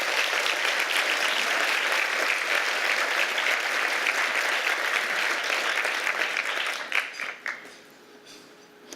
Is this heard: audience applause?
yes